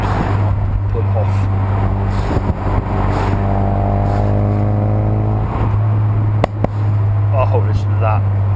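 A Ford Focus RS engine revving in fourth gear, heard from inside the car: a loud, steady engine drone that rises under light throttle, then eases off, over constant road rumble.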